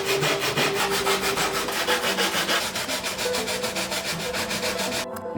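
Wooden boards being cut to size with a saw, a steady run of quick rhythmic rasping strokes, close and fairly loud, continuing alone without any talk.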